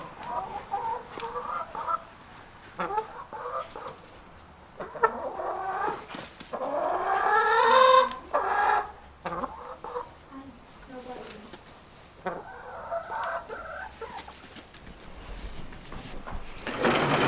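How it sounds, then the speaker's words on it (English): Chickens, a flock of laying hens about eight months old, cluck and squawk steadily up close on a farm, chattering on and off throughout, with a person talking over them. "But those are the new 6 chickens now."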